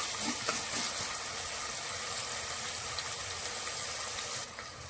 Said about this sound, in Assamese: এতিয়া মই গাজৰ আৰু পিঁয়াজ, কেঁচা জলকীয়াটো ভালকৈ ভাজি ল'ম 2 মিনিট সময়।